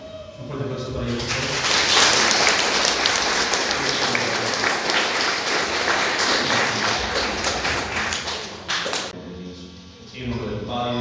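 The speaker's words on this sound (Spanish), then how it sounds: "Un fuerte aplauso para ellos." Warm applause from people gathered at a community ceremony honoring couples, loud and sustained for about nine seconds before fading, with a voice speaking faintly at the end.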